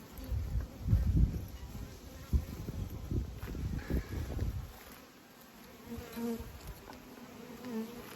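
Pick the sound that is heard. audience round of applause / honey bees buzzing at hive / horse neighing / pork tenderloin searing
honey bees buzzing at hive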